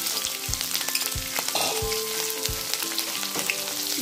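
Finely chopped ginger and green chili hit hot oil with toasted cumin for a samosa filling, sizzling loudly and continuously while a spatula knocks and scrapes against the pan several times.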